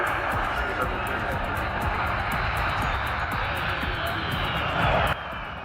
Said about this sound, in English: Runway shakes as a colossal military cargo plane slams down with a commanding touchdown.